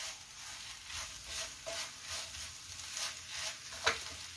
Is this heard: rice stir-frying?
yes